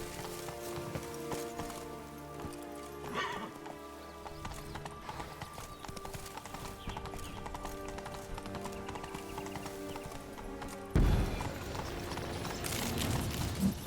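Horse hooves clip-clopping at a gallop in The Witcher 3 over layered game music, with a whinny and a louder burst of movement near the end.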